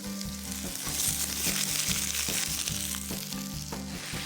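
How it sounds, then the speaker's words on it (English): Onion wedges roast in oil or butter in a hot pan, sizzling steadily and loudly up close without pause, with no talking. "Heat the pan and roast the onions in a bit of oil or butter."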